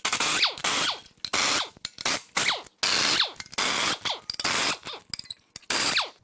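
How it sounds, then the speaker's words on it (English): Ratchet clicking in repeated bursts while unbolting motor mount brackets on a 2018 Ford F-150 with a twin-turbo 2.7 EcoBoost V6, loud and close with short pauses between strokes. "we're gonna get these motor mount brackets unbolted"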